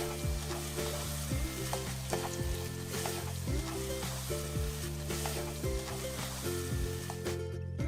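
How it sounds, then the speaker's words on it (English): Vegetables including carrot strips and bell peppers seasoned with salt sizzle loudly in a pan, with regular stirring scrapes every second or so over a constant frying hiss. "Season it with a teaspoon of salt and keep stir frying."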